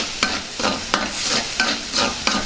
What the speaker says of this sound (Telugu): బాగా కలుపుకుందాం కాసేపు బాగా వేగనిద్దాం